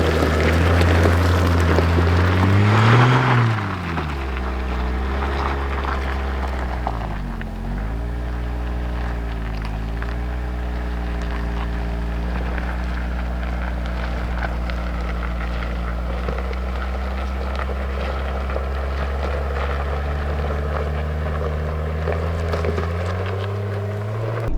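A 2025 Ineos Grenadier off-roader's engine revving hard under load while climbing a hill, loud and steady with pitch rising and dipping several times as the revs change, alone with no talk.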